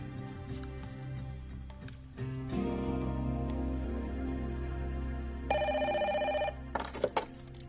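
A telephone rings with repeated bright electronic ringtone bursts over a steady low hum during a call, fairly quiet, with no voices.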